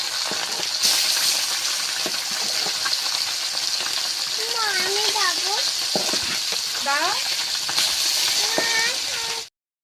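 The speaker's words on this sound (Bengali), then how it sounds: "তেলটা গরম হয়ে গেছে আর মাছগুলো ভেজে নিচ্ছি" Large fish freshly caught from a beel fry in hot oil, giving a steady close sizzle and crackle for nearly ten seconds, with occasional clinks and brief chirpy sounds over it.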